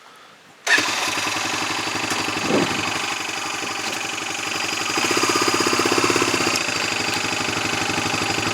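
An ATV engine cranks to life after near silence and settles into a steady, close, buzzing idle with an even rhythmic chug that rises slightly in the second half.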